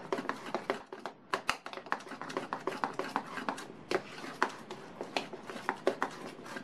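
Banana sponge cake batter being stirred in a bowl, with a steady run of soft scraping and light tapping strokes, close and quiet, no voices.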